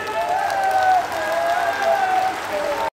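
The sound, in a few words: crowd applause welcoming the chief minister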